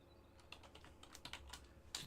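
Quiet clicks of a computer keyboard being typed on, a quick irregular run of soft taps close by, with no talking.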